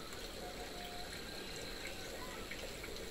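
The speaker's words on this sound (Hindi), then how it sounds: "रितिका पानी भर रही है भाई, ठंडा ठंडा पानी पहाड़ों का।" Cold mountain water runs steadily as a container is filled outdoors in a Himachal village, a constant broadband trickle and gush that is fairly quiet and continuous throughout, with no speech.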